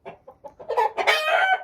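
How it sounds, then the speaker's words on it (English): Chanticleer chickens in a barn give a string of short, soft clucks that build into a loud, sustained crowing call, close by with no talking. "Chanticleer chicken."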